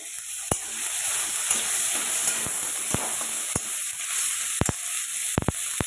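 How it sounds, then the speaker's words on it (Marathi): Tomatoes sizzle in a pan with roasted onion for a paneer curry, a steady frying hiss broken by several sharp clicks of stirring against the pan. "त्यात टोमॅटो तळायला टाकले थोडेसे तळून घ्यावे म्हटलं"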